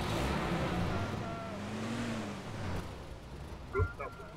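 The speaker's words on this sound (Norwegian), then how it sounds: "Jeg hører bilen" A car drives in the Arma video game on the Takistan map, a steady engine drone with shifting pitch and wind-like hiss, fading slightly before a short thump near the end, with people talking over it.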